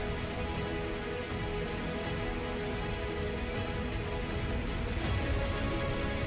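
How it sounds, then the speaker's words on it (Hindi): Heavy, continuous rain falling in Dehradun, a steady, dense hiss of downpour that fills the background evenly without letup and with no voices. "देहरादून में भी लगातार बारिश हो रही है।"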